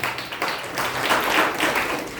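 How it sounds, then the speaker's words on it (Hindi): A church congregation at a Sunday service claps for a sister in a burst of scattered group applause, close and fairly loud, with no talking over it. "काजी सिस्टर की 14 ताली बजाएंगे।"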